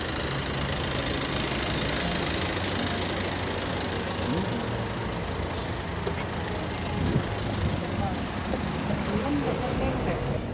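Car driving along the road toward Kota Batu, a steady engine and road rumble heard from inside the cabin for about ten seconds.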